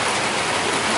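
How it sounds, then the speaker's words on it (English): Heavy rain pours down steadily, a dense, loud hiss filling the whole second with no gaps. "I don't know if you can hear me or not because it's raining like crazy"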